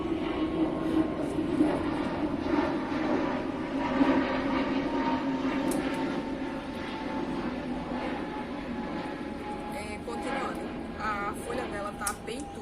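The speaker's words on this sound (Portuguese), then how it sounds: "Perdão pelo avião." An airplane passes overhead outdoors during a talk on orchid care, a steady broad roar lasting throughout and sitting under continuous speech.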